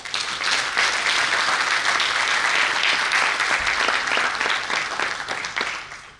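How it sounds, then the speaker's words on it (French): Audience at a national electoral convention breaks into sustained applause after the vote, a dense crowd clap that holds loud for several seconds and then tapers off toward the end. "on doit tous applaudir d'abord"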